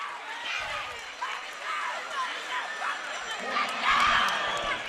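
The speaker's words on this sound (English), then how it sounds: "The crowd on their feet cheering for this fight." Crowd noise fills an MMA fight venue in Heritage Hall, Lexington, Kentucky, with a steady roar that swells toward the end and muffled voices mixed in.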